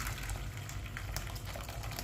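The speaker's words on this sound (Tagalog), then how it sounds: "Painin ako ng tubig para madali," Water heats in a pot toward a boil for cooking oats, giving a steady, dense rushing hiss with a low rumble that holds evenly throughout, with no voices.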